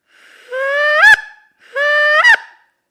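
A man imitates a goose honk with his voice: two drawn-out nasal honking calls, each rising and ending in a sharp squeaky break, loud and close with no other sound.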